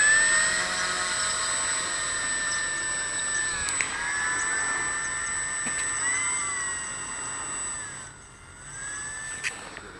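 A scale model Spitfire airplane's engine holds a steady, loud high-pitched whine during a run-up, with slight pitch dips and a brief drop near the end, heard alone without talk.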